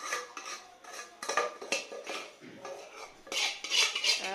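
Dishes, pots and cutlery being washed by hand in a home kitchen: repeated clinks, clatters and scrapes of metal utensils knocking together, close and irregular, with no talk.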